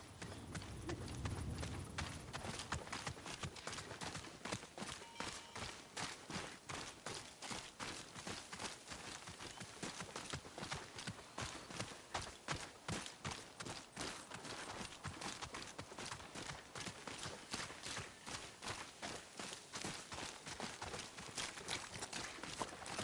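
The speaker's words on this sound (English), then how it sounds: "There's your horse." Horse hooves clip-clop steadily at a quick trot in the Ghost of Yotei video game, loud and close, with a dense regular rhythm that runs throughout.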